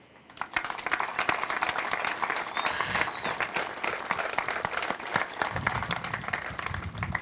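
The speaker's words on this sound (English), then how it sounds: "I first want to have us give a big round of applause again for all the veterans here" An outdoor crowd applauds veterans at a Purple Heart ceremony in Dunedin, Florida, clapping swelling in after a brief quiet start and holding steady, moderately loud, with scattered louder claps near the end.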